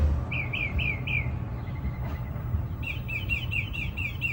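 Small birds chirp around blueberry bushes in a home garden, a run of four quick repeated tweets, a pause, then a longer burst of rapid chirps over a steady outdoor background hum.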